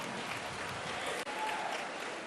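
A crowd applauds a young girl at a government welfare event in Pandhana, Khandwa, with steady, fairly faint clapping that carries on throughout and drops out for one brief moment partway through.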